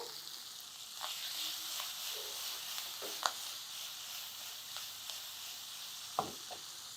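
Capsicum pieces fry in a pan for a traditional Senagala Patoli, giving a steady low sizzle throughout with a few sharper stir clatters and pops rising above it, no voices.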